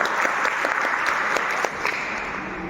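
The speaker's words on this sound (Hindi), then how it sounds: "मैडम के लिए जोरदार तालियां।" An audience claps loudly and continuously, with a few sharper individual claps standing out from the crowd's steady wash.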